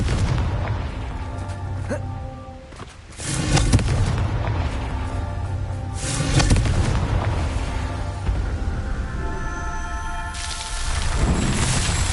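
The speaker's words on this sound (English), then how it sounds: "Confringo!" Spell explosions in the video game Hogwarts Legacy: several loud booming blasts with rumbling tails, set against continuous game music and ambience.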